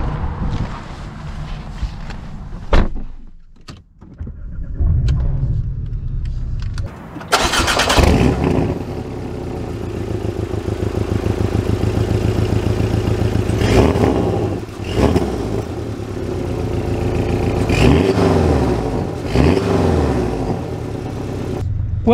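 A 2023 Porsche Boxster S engine cranks and fires at about 7 seconds after a couple of door or body thumps, then settles into a loud idle with several throttle blips and revs close by, with no talk.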